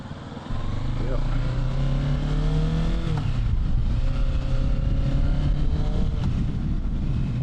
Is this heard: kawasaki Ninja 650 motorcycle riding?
yes